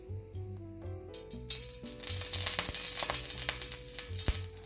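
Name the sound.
oil added to a hot pan, sizzling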